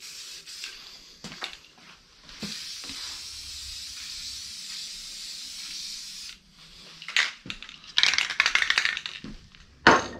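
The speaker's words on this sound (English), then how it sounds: "I'm going to hit her with a little bit of primer" Primer sprays from an aerosol can onto an old Eco Air Meter tire inflator after sanding, heard as a steady hiss lasting several seconds followed by short, irregular spurts of spray and faint handling clicks.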